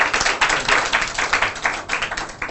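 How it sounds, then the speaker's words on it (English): Audience at a presentation event in a hotel function room applauds a presenter, a dense, steady patter of many hands clapping at close range for a couple of seconds, with no talk over it. "can you give him a big round of applause again"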